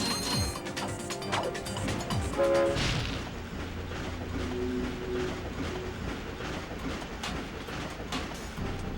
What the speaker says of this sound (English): time to go on the train